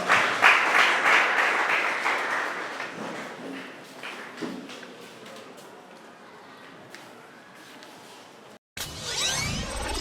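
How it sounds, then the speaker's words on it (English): Audience applause at a school grand final debate competition, loud dense clapping that gradually thins over about eight seconds before a brief silence and a short burst of rustling noise. "A round of applause."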